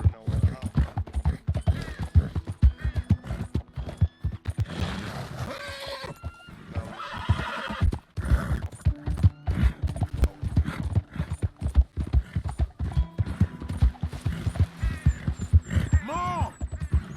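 A horse clip-clops in a loud, close, steady rhythm of hoofbeats and neighs sharply a few times, with brief whinnies standing out over the continuous trotting.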